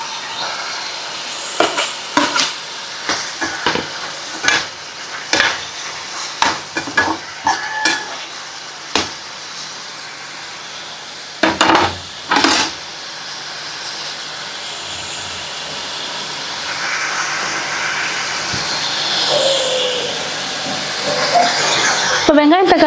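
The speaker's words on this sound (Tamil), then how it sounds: "இப்போ வெங்காயம் தக்காளி போட்டாச்சு." Onions and tomatoes fry in a pan for Paal Sura dry fish thokku, with a rising hiss and sizzle under repeated scraping stir strokes; a voice talks at times.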